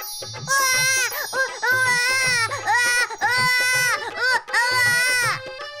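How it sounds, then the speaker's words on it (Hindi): A newborn baby wails loudly and close in a series of long, rising-and-falling cries, breaking for short gasping breaths between each sob, the crying filling nearly the whole stretch. "तेज रोशनी के साथ बच्चे के रोने की आवाज सुनाई देने लगी"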